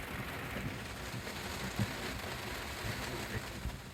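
Heavy rain pouring steadily onto surfaces during a hail storm in Tin Can Bay, a dense continuous hiss with scattered louder drips and patters.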